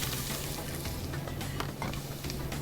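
Onions frying in a pan for risotto, giving a steady, soft sizzle with faint crackles and stirring, quiet and without speech.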